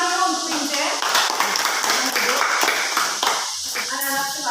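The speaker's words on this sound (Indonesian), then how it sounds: "Tepuk tangan dulu untuk Lince." Students in a classroom clap for a classmate during a practical teaching exam, a brief burst of close clapping mixed with talking voices.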